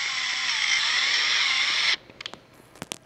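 A power drill with a quarter-inch bit whines steadily for about two seconds while building a minibike, then stops, followed by a few light clicks and taps.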